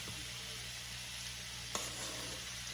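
Onions frying in a hot cast iron pan, a steady, dense crackling sizzle with one brief sharper clink partway through and no voices.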